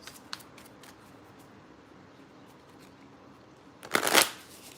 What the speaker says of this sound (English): now I'm going to go ahead and pull 1 card each for the Romance Angels Oracles